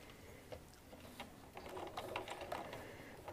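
Close, quiet sewing machine stitching along a cuff edge, a soft rapid mechanical chatter that builds slightly and runs steadily without talk.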